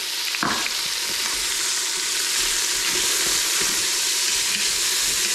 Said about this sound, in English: let's get started with our bacon, rendering that down.